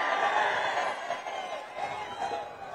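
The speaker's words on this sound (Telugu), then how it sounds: "ఇది మంచి కార్యక్రమం అనుకుంటే గట్టిగా చప్పట్లు కూడా చెప్పండి" A large crowd at a political rally cheers and claps in a continuous wash of roaring sound that swells and slowly fades over a few seconds, with scattered shouts mixed in.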